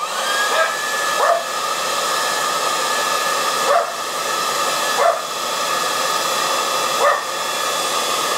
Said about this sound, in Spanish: mis perros van a ladrar una vez que prenda esto